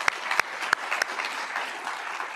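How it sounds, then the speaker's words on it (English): Audience applause at a Sunnyvale city event, a steady wash of clapping from a crowd with a few sharp nearby claps standing out, moderately loud and continuous. "please everyone give them a round of applause"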